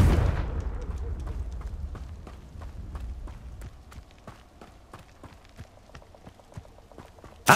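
A Confringo blasting spell bursts in a Hogwarts Legacy dark arts battle arena: a loud opening boom decays into a rumbling tail, followed by a steady string of sharp crackling impacts and one final punchy burst at the end.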